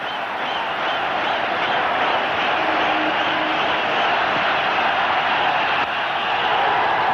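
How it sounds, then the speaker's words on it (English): A packed cricket stadium crowd in Mumbai cheers continuously, a dense, loud, sustained roar of voices with no break throughout. "So the crowd quite delighted at having something to cheer about."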